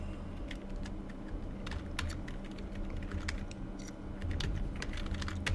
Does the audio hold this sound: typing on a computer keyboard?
yes